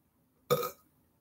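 A single short, low burp, close and fairly quiet, with silence before and after.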